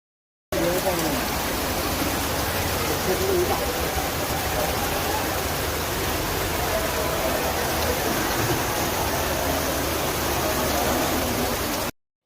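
Rainwater rushes through a flooded main road in Dajibanpeth, Hubli, after half an hour of heavy rain, a steady, dense, broadband wash of flowing water that stays loud and even throughout.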